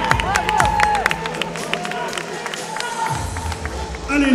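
Crowd at a Musclemania bodybuilding show in Paris claps and cheers for a competitor, a loud, steady wash of applause with whoops and voices talking over it throughout.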